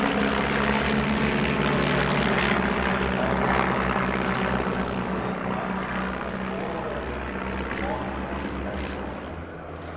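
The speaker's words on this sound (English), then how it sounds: "The aircraft pull up now for the Prince of Wales break." Propeller aircraft at an airshow, including a type in Royal Air Force service from 1941 to 1975, fly past with a loud, steady engine drone that slowly fades, while a commentator talks over it.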